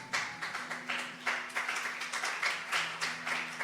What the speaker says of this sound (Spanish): Es un aplauso, no de valientes.